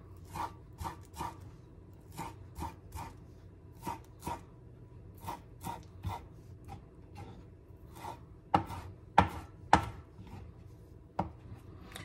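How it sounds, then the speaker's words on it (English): A knife roughly chops food on a cutting board in a steady run of soft thuds, about twenty cuts with a few louder knocks near the end, close but quiet and without speech. "I'm gonna give it a rough chop"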